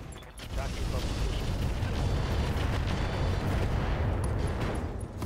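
Deadfire missiles fire in a RogueTech mech battle game, a dense, continuous rumble of launches and explosions that fills the whole stretch, loud and sustained. Talk runs over it.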